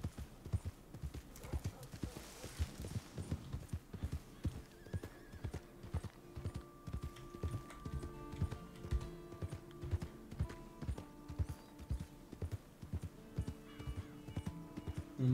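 Horse hooves clip-clop steadily in Red Dead Redemption 2, a near, even trotting beat that runs the whole time, with a brief whinny near the start and faint game sounds beneath.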